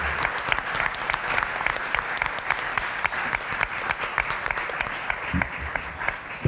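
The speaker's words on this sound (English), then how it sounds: "Let's give our panelists a well-deserved round of applause." Audience applause for a panel discussion at a pub politics event, a dense, steady wash of clapping from a large room that carries on at an even level throughout.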